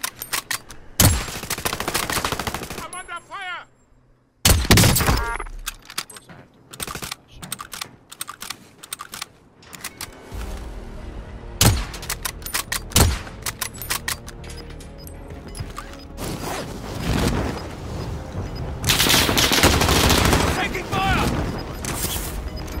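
Gunfire in the Warzone video game crackles in sharp repeated bursts and volleys mixed with keyboard clatter, while a voice talks intermittently over the action.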